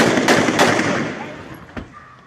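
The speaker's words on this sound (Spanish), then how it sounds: "Disparos, fuego y gritos inocentes." Gunfire crackles during a clash between the Jalisco Nueva Generación cartel and Mexican self-defense groups: a loud opening burst of rapid shots fades, then one sharper report follows, with voices in the background.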